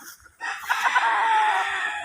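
A young stag gamecock crows once, a loud close drawn-out call that starts abruptly and holds strong for over a second, alone without talk.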